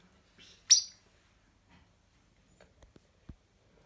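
A single sharp, high chirp from a mutation red-rumped parrot rings out close by, followed by a few faint soft knocks and rustles in an otherwise quiet room.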